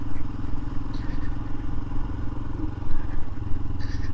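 Royal Enfield Himalayan motorcycle riding through snow and mud, a steady low engine drone running close and continuous, with light clatter and scraping on top.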